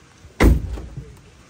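A car door closing with a heavy, close thud, then softer rattling knocks as it springs back open by itself instead of latching.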